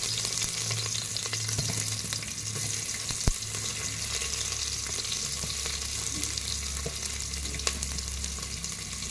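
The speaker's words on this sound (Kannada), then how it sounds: "ಎಣ್ಣೆ ಕಾಯ್ದಿದೆ ಗೈಸ್. ಸೊ ಅದಕ್ಕೆ ಇವಾಗ ಆನಿಯನ್ಸ್," Sliced onions sputter in hot oil at the start of a mutton sambar, a continuous dense close sizzle with a couple of sharp clinks and no voices.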